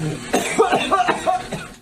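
A teenager on a ventilator coughs in a harsh, spasmodic fit, several rough bursts in quick succession, close and fairly loud.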